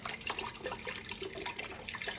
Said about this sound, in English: And then I'm adding in a bit of just normal water as well.